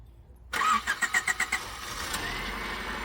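A Honda Civic EG hatchback that has sat unused for over four years cranks in a quick rhythmic series of starter turns, then catches and settles into a steady close idle.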